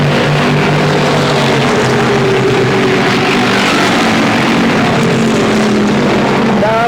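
Race cars at speed on a speedway oval track, a loud continuous roar of engines with droning tones sliding in pitch as cars pass, dense and close.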